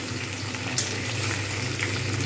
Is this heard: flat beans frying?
yes